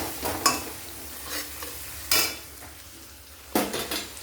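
A spice paste with milk being sautéed in a pan: a low hiss under a few loud, separate bursts of a spoon scraping and clattering against the metal, with quiet pauses between them and no voices.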